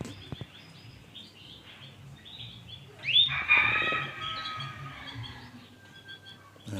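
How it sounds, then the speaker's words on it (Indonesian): A pet canary recovering from a nervous-system illness starts singing again, a loud, bright burst of song rising suddenly midway and tapering off, with faint chirps before and after. "Dan burung sudah mulai gacor-gacor lagi ini sudah."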